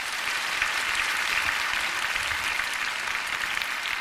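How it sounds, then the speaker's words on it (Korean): A large church congregation at a Korean prayer meeting claps in welcome for a missionary from India, a dense, steady wash of applause filling the room without a break. "이렇게 큰 박수로 환영해 주셔서 정말 감사드립니다."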